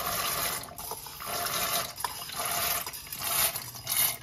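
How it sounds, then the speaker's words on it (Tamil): A pot holding 1.5 litres of water comes to a rolling boil for pasta, giving a steady, close bubbling and hissing wash with brief splashy surges throughout. "தண்ணி கொதிக்குது."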